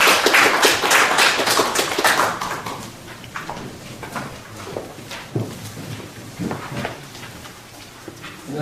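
Seminar audience clapping, a burst of close, sharp claps that quickly thins to scattered individual claps and knocks in a small room.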